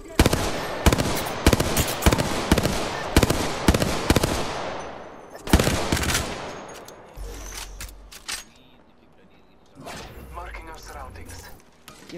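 Video game gunfire in Apex Legends: rapid, loud automatic bursts of shots up close, then scattered single cracks and thumps, with players talking over the action.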